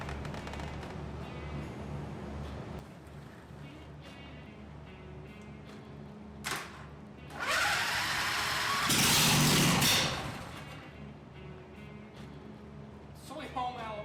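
Homemade Zamboni engine fed through a carburetor solenoid, running loud and steady with a surge and roaring rev in the middle, close by, with people talking over it.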